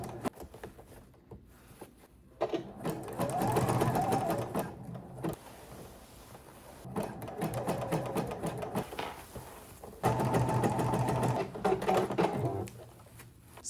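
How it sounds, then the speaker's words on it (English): A sewing machine zigzag stitches elastic on a vintage skirt, running in three close, buzzing bursts of several seconds each, separated by short quiet pauses. "I'm going to zigzag stitch around and kind of give it a good overlap"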